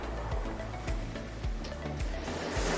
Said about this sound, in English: I just love the sound of the waves crashing in.